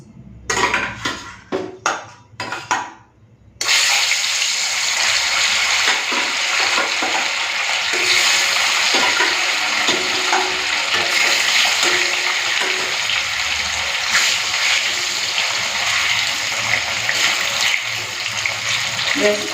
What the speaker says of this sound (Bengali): তেলটা গরম হয়ে গেছে চলুন এখন মাছটা ভেজে নিই